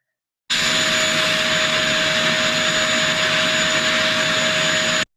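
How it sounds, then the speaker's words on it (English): A vacuum cleaner runs steadily and loudly at close range, a constant whooshing roar with a high motor whine that starts abruptly and holds unchanged for about five seconds, with no voices over it. "Vacuum. A vacuum cleaner."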